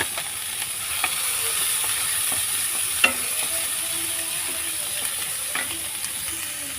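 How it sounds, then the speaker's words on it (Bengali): Chopped onion and garlic fry in oil in a nonstick pan, a steady soft sizzle and hiss with occasional sharp clicks from stirring, close and moderately loud, with no talking. "এখানে আমি একটু তেল দিয়ে নিচ্ছি। প্রথমে পেঁয়াজ কুচিটা দিয়ে দেবো, তারপর রসুন কুচি দিয়ে দিচ্ছি"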